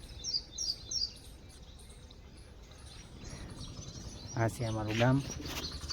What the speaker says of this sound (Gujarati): અહીંયા ચકલી બેઠી તમને બતાવતી હોય ને તો આ ચકલી બોલે છે